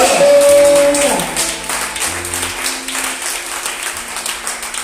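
A church congregation applauds in praise of the Lord Jesus. The clapping is dense and continuous, mixed with sustained tones, and is loudest at the start before settling to a steady level.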